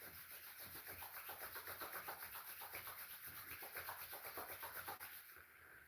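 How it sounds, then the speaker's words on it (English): Palms rubbing briskly together during a yin yoga and meditation session, a steady fast swishing friction in quick even strokes that fades out near the end, close and alone with no talking. "So rub your both hands."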